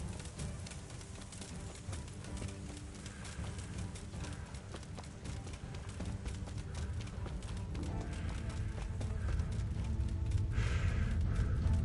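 A horse gallops in the medieval game Kingdom Come: Deliverance, a steady rapid clip-clop of hooves close by, growing louder and fuller over the span with no talk.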